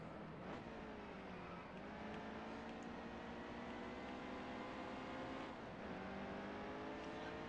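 Race car engines in the NASCAR Heat 2 video game at Martinsville, a continuous droning whine with pitch sweeps as cars rise and fall, steady and moderately loud.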